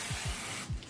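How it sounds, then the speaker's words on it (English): Aerosol rose gold coloured hair spray hissing in a steady continuous spray, applied close up for under a second with a few faint low thumps from handling. "spray, whoops"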